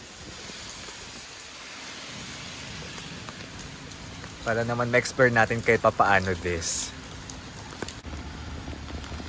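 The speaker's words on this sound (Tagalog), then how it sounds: "So ito ang vibe ng spring season pag umuulan." Soft steady spring rain patter on a cherry blossom street in Jeju, South Korea, with a person speaking briefly in the middle over the rainfall.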